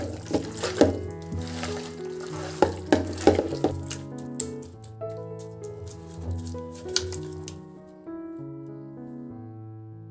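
Onion-fried oil is stirred into a chicken biryani mixture, giving a series of wet, clattering scrapes and splashes that are loud and busy at first, then quieten to softer intermittent stirring over a steady background tone.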